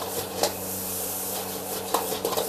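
Home-style nasi goreng kampung fried rice being stirred and scraped in a pan, giving a soft, steady rubbing and shuffling texture with a few brief louder scrapes, fairly quiet and without talk.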